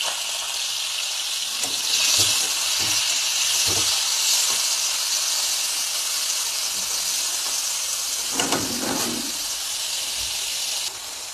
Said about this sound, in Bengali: তেলটা গরম হয়ে গেছে, নুন হলুদ দিয়ে মেখে রাখা চিংড়ি মাছগুলো দিয়ে দেবো।